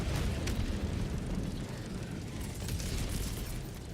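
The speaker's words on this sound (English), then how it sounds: "I died to my own anti-tank mine" A player's own anti-tank mine detonates in a video game, a loud, dense roaring blast that rumbles and crackles for several seconds without letting up.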